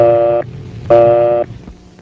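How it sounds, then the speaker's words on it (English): Telephone busy signal on an older exchange: two steady, harmonic-rich tone bursts about half a second each, separated by a matching pause, loud and alone over a faint low hum. "If the line is busy, you'll hear this busy signal."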